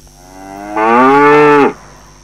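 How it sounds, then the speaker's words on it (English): A cow gives one loud, close moo lasting about a second, rising into a strong tonal bellow and then stopping abruptly, with no talking. "It's a cow."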